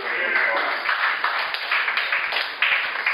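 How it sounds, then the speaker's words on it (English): Dense applause fills a comedy club during a stand-up set at the Stress Factory, the claps crisp and continuous with sharper individual slaps standing out throughout. "Thank you for your applause."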